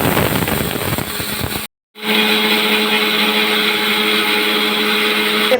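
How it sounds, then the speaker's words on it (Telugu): An electric mixer grinder grinds mustard seed into powder with a loud, steady high-pitched whirring drone. A short burst is cut off, and after a brief silence a longer continuous run follows. "మిక్సీ కొట్టేస్తున్నాను."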